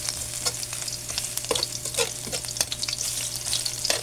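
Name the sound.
frying garlic until golden brown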